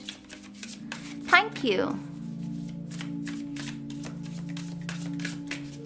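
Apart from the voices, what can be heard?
shuffling tarot cards for a reading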